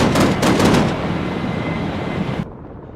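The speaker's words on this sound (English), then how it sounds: "I thought I heard the machine gun fire coming off of it." Dense, continuous rattle of machine gun fire in the military shooter Arma 3, loud and close for the first second, then a steady rumbling barrage that cuts off sharply near the end, with no voices.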